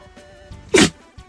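A small dog sneezes once, a short sharp burst close to the listener, with faint quiet sounds before and after.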